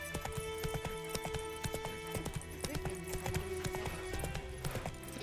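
Roach the horse walks in The Witcher 3, with steady hoof clip-clops in a regular rhythm over a background of game music and ambience, moderately faint.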